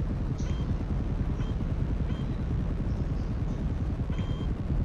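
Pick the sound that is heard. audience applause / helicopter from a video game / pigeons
helicopter from a video game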